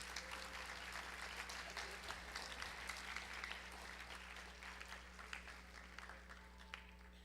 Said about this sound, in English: how about a nice round of applause for Mr. Bonamaze and our high school kids.